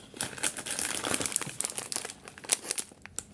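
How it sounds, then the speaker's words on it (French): Crinkly, crackling rustle with sharp tearing bursts, close by, like tape being pulled off a cardboard box; no talking. "Je vais enlever le scotch qu'ils ont mis."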